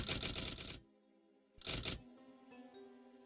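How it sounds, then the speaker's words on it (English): A typewriter sound effect from a video game demo, two short bursts of dense rapid clacking separated by a pause, with faint background tones in between. "I like the typewriter noise"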